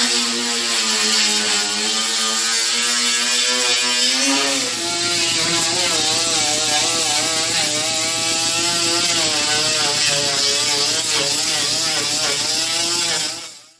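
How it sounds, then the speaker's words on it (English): An angle grinder strips body filler off a car dash panel, running steadily and loud for the whole stretch with its motor pitch wavering under load as it bites into the filler, then cutting off at the very end. "Dig out the grinder."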